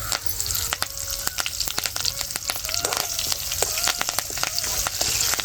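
Mustard seeds, coriander powder and curry leaves sizzle in hot oil in a home kitchen, a steady close crackle with rapid popping and spitting bursts throughout, alone with no talk.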